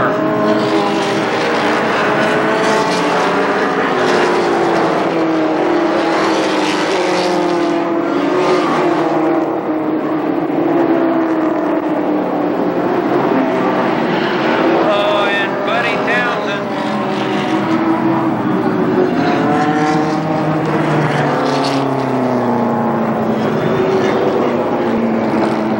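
Dwarf race cars scream around Columbus Motor Speedway, with several engines droning and rising and falling as they pass. The roar is loud and continuous, and an announcer talks over it.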